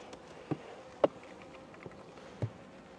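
Honeybee colony buzzing during a hive inspection, a continuous close hum with a few louder buzzes as individual bees pass near.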